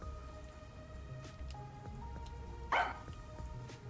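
One loud, abrupt bark from a dog cuts through a quiet room near the end, preceded and followed by low background hum and faint household noise.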